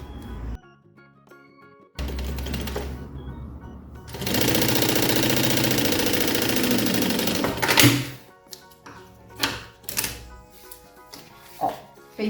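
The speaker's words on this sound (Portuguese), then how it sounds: "Vou passar um pé de máquina." Sewing machine running a seam on a fabric pencil case with silicone-coated material, a steady rapid stitching burst in the middle framed by shorter starts, stops and handling knocks.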